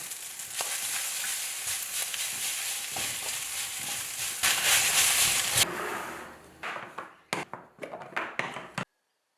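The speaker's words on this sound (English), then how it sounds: "toss it with ketchup, sausage, onions and capsicum, the classic Japanese Napolitan." Pasta tossed with ketchup, sausage, onions and capsicum for Japanese Napolitan sizzles steadily in a pan, with scraping stirs and a few sharp taps as the frying fades near the end.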